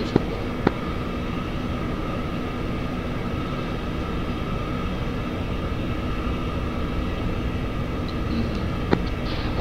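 Military jet taxiing toward the runway in the DCS flight simulator: a steady, loud engine whine and rumble holding constant throughout, with a couple of faint clicks.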